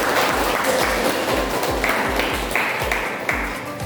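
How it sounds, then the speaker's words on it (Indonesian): Audience applause at a teacher-training class presentation fills the whole span: steady, dense clapping from a group, moderately loud and continuous without talk over it. "Boleh, kasih tepuk tangan dulu."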